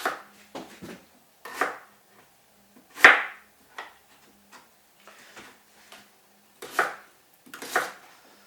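A knife chops vegetables for Irish stew on a board, making sharp, irregular taps up close with gaps between the cuts and no talking.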